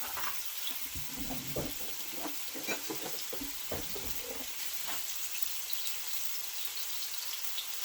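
Pieces of plant-based Beyond Sausage fry in a pan with intermittent crackles and pops over a steady hiss, close and moderately quiet, with no talking.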